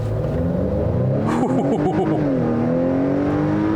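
Acura TLX A-Spec with the turbo engine and all-wheel drive accelerating, a loud continuous engine note whose pitch climbs and shifts through gear changes before settling into a steady drone.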